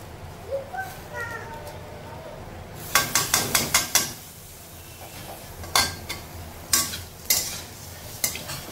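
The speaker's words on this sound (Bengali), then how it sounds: "এখন একটু গ্রেটারের মধ্যে ঘষে দেবো আদাটা" Fresh ginger rubbed against a metal grater in a home kitchen, a run of six quick scraping strokes followed by several spaced, sharper scrapes, fairly close.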